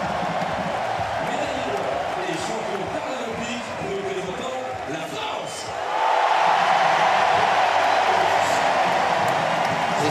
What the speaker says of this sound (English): This place is roaring right now.